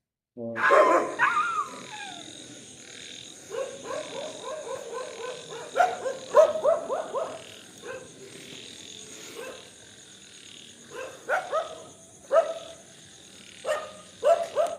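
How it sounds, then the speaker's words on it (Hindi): Several dogs barking at night, repeated bursts of yaps and barks at varying distances, moderately loud, with quiet gaps between volleys and a faint background hum. "उतना सारे कुत्ता के बीच में भी मैंने उसका क्लिप निकाला भाई"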